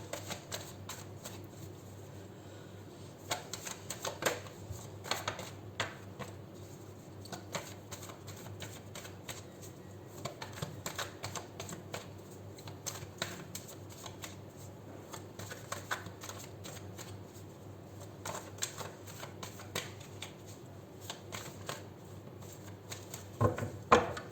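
Tarot cards being shuffled, a steady close run of soft papery riffles and taps lasting the whole stretch, quiet and without speech.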